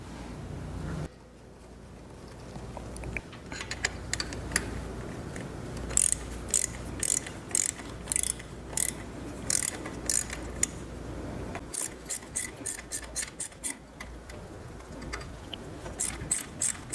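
A back tap is turned by hand in stripped spark plug threads, producing a run of sharp ratcheting clicks and metallic creaks, close and fairly quiet, arriving in irregular bursts with brief pauses between turns.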